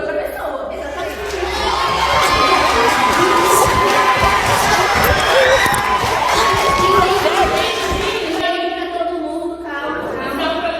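Studio audience on a Brazilian family talk show shouting, cheering and arguing all at once, a loud dense crowd roar that holds steady and thins briefly near the end, with voices overlapping throughout.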